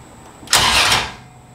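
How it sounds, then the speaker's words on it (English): A BMW M3 fitted with a Toyota 2JZ engine being started for the first time gives one sudden, loud, close burst that lasts about half a second and then dies away into quiet. "we'll be turning the key soon. You gotta press the clutch down."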